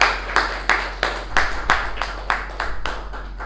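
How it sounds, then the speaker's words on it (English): Clapping from a gathered audience at a club meeting, heard as a series of separate, fairly sharp claps in a steady rhythm rather than a dense roar, suggesting a modest number of hands, fairly near. "help me to welcome General Evaluator of the Day, DTM MU Bhatt, onto the stage with a thunderous round of applause"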